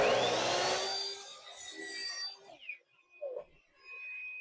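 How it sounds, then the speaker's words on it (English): A hand saw cuts through rough pallet wood close to embedded nails, rasping loudly for about two seconds before fading into faint scrapes and a few light knocks. "Your saws do not like you to cut nails."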